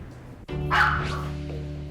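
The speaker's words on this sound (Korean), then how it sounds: "목소리 큰 남자라든가 손짓이 큰 사람한텐 짖어요." A dog gives a single sharp bark up close, standing out clearly against a steady low background hum, with no talking.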